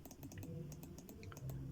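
Quick, faint clicking of keys on a computer keyboard, a short burst of a dozen or so light taps in an uneven rhythm with low background hum.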